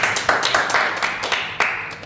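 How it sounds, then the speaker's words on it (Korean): Hands clapping at a church youth worship service in a quick, uneven burst of several people, bright sharp claps filling the short moment with no talking. "박수."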